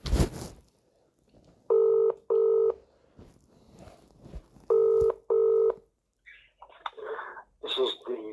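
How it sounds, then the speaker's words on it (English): Touch-tone telephone keypad beeps sound in two pairs of steady tones, with a brief voice at the start and some faint line noise afterward. "Ring up Graeme Kenna."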